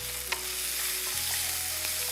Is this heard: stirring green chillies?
yes